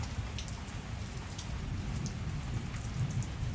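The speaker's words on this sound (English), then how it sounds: "you can tell your friends and your neighbors that you saw rain in Los Angeles" Steady rain falls in Los Angeles, a dense, even patter on surfaces nearby, with scattered louder drips and no voices.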